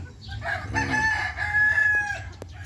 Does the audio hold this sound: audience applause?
no